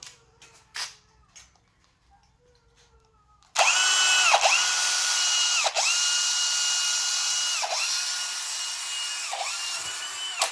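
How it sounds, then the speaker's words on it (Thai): An electric drill bores holes in scrap steel for a homemade window grille, starting abruptly after a few quiet taps and running as a loud, steady high whine that dips several times as the bit bites. "จะเจาะด้านละสามรูนะผมทั้งหมด สิบสองตัวนะผมนี่ เจาะหมดเลยนะครับผม"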